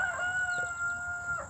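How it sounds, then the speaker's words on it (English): A rooster crows once in a single clear, drawn-out call close to the recorder, the tone held steady before a short rising break at the end, over a quiet outdoor background. "hey Carl, that's my rooster"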